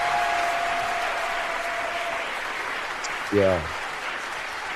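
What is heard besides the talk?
applause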